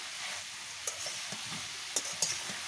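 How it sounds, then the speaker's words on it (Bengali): Mixed vegetables with a little meat and turmeric sautéing in a pan over a village cooking fire, a steady close sizzle broken by a few sharp spatula taps and stirring scrapes, with no talking. "এ সাইডে তিন মিশালি সবজিটা আমার সুন্দরভাবে কষাতে থাকি"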